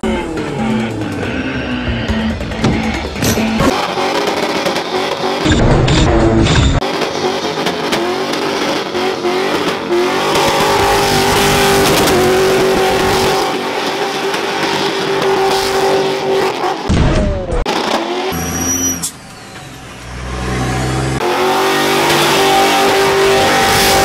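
An automatic Holden Commodore does a burnout at Autofest, its engine revving hard and sustained up close with screeching tires, briefly dropping off near the end before surging again.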